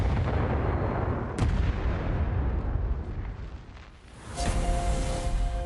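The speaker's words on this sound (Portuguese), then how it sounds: "Ele vai na direção do canhão e está pronto para o disparo." A coastal defence cannon fires with one loud, sharp boom that rolls into a long rumbling decay, followed by a lower roar, the gun set on English-controlled islands during wartime.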